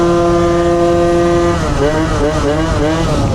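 A motor scooter engine runs loud and close during a night ride, a steady drone with a rising, wavering pitch as it revs and pulls away.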